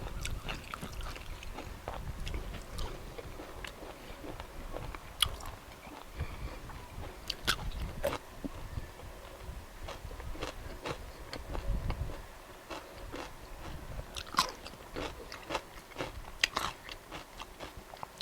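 Close-up chewing of crunchy beef with coconut shoot, repeated sharp crunches and bites in an irregular rhythm over soft mouth noise, no talk.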